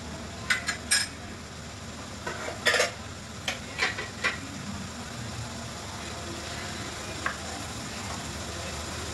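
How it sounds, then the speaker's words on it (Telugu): Mutton biryani masala fries in oil in a bowl, a soft continuous sizzle broken by scattered metallic clinks and scrapes of a stirring spoon, close and moderately quiet. "ఇలా వేగుతూ ఉండాలండి కాసేపు."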